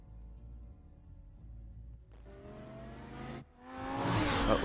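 A fast car drives away in the Batman Telltale video game, its engine note climbing from a low hum to a rising, louder whir and rush at the end, with no speech.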